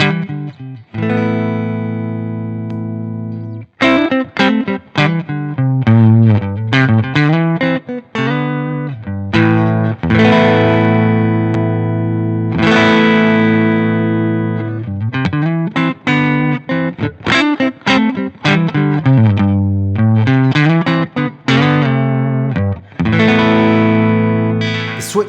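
Electric guitar through a low-gain overdrive, a Fulltone OCD or Boss OD-3, playing a busy run of chords and single notes with a lightly crunchy, near-clean boosted tone. It is steady and loud, with no voices.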